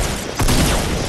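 One close, sharp gunshot cracks out in Fortnite over steady background game noise.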